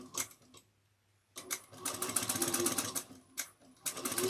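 A sewing machine stitches a backpack in short close bursts of rapid needle clatter separated by brief pauses, the motor whirring up and down with each run.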